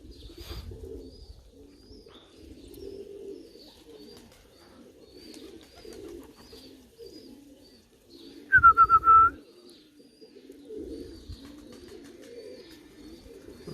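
Young crowned pigeons cooing in a loft, giving soft, low, repeated coos with faint chirps, plus a brief louder call near the middle, at close range with no talking.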